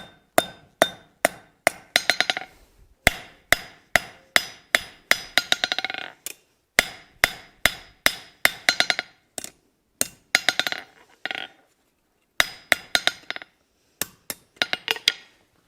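A hammer rounds the corners of a hot steel latch on the near edge of an anvil, ringing out in quick rhythmic bursts of sharp metallic blows separated by brief pauses, loud and close, with no talking.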